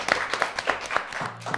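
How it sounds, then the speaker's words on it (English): Scattered applause for a spelling contestant on a children's educational show, a few distinct claps with some low background sound. "Let's give a round of applause."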